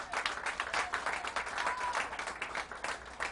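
Crowd applause for event organizers at a Buffalo community Day of Hope and Healing, steady dense clapping throughout from a sizable audience, fairly loud and continuous with no talking.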